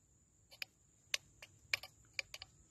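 A nail fixed to a broom handle taps against a rock buried in the ground, giving several sharp, faint clicks spaced irregularly over a few seconds, with no talking.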